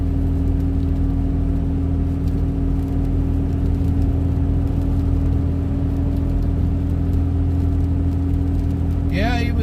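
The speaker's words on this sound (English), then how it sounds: "But the damn fan that he put in it makes a hell of a noise." Aftermarket fan inside a moving car drones with a steady low roar and tonal whine, loud and constant, with a brief rising whistle at the end.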